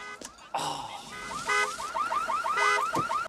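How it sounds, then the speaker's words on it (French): A car alarm whoops in a repeating siren cycle, rising and falling steadily, with an occasional voice faintly underneath. "C'est du système d'alarme, ça?"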